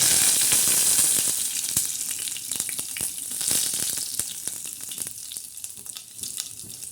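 Curry leaves hit hot oil in a pan while a spicy chana and urad dal dish is cooked with green chillies. A loud crackling sizzle bursts at first and then settles into a steady spattering fry, with no talking.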